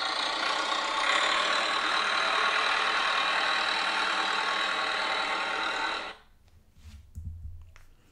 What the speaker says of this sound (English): Farmer Tom has a red tractor that goes broom,